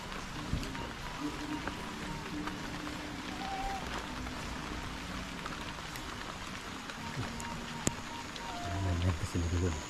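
Steady rain patters on surfaces in a foggy village on a late afternoon, a dense, even hiss throughout. A voice speaks briefly underneath it.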